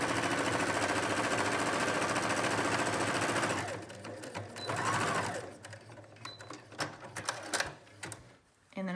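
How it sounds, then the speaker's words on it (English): A sewing machine stitches fabric for a gray bonnet mask, running steadily and loudly for about four seconds, then stopping; brief handling clicks and fabric rustles follow in the quieter remainder. "So we're going to stitch a 1/4 inch this way, and I've just lined up my fabric."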